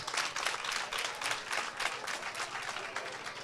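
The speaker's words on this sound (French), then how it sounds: "Je voudrais que vous vous applaudissiez," An audience in Benin applauds, a dense, lively clatter of many hands with rhythmic surges, fairly close and sustained throughout, with no one speaking over it.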